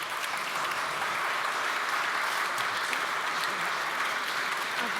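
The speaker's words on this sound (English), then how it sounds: "I'd like to give a big round of applause to the panel if we could." Sustained audience applause for a conference panel, a dense, steady wash of many hands clapping at even loudness throughout, with no voices above it.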